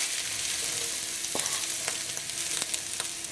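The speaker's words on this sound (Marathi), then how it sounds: "हितून लिवर फ्राय करूया" Beef liver frying in a tablespoon of oil in a pan for Goan sorpotel, a steady close sizzle with occasional crackles and stirring clicks, no talk.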